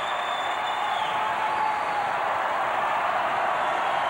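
Continuous roar of a volleyball arena crowd cheering and clapping at game point during a 1989 women's match between Hawaii and Pacific, a dense, sustained wall of noise.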